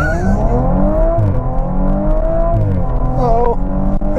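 An Audi RS4 Avant, the BTCC champion Shedden's car, accelerates hard under throttle, a loud close engine note climbing steadily with a brief gear change near the end.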